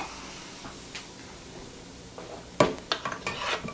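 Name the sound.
stirring butter into a pan off heat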